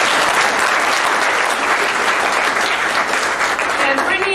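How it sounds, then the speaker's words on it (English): Loud audience applause at a senior awards day program, dense sustained clapping from a large crowd filling the whole span with no let-up. "so let's give those ladies a round of applause."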